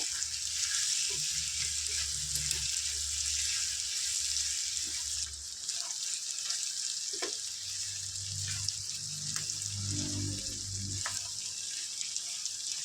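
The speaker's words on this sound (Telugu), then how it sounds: "అల్లం వెల్లుల్లి పేస్ట్ పచ్చివాసన పోయేంత వరకు ఫ్రై చేసుకోవాలి" Ginger garlic paste frying in a pan for a chicken curry, a steady close sizzle hissing throughout with occasional soft stirring scrapes and clinks underneath.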